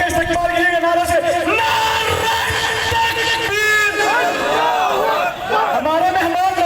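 A crowd at a Jamaat-e-Islami founding-day rally in Pakpattan chants a slogan in unison to welcome a party leader, loud, sustained and continuous, with bellowing and yelling voices.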